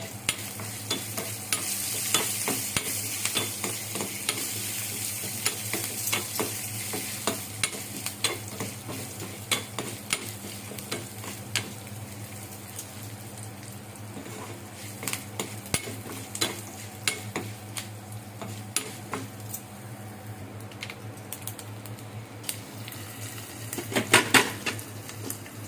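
Curry leaves fry and crackle in hot sunflower oil while being stirred in a pan, a steady close sizzle dotted with sharp pops and spatters, and a busier cluster of crackles near the end.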